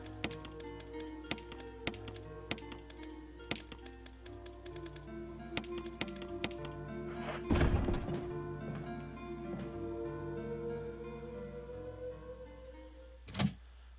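Door unlocking in the video game Resident Evil HD, a series of faint, rapid ticking taps followed by a louder clunk of the lock mid-way, then a sustained mechanical hum and a short final thud.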